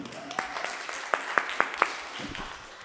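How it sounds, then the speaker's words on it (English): A class applauds itself with a brief scatter of claps, a few sharp ones standing out over light background murmur and chatter. "Give yourselves a round of applause."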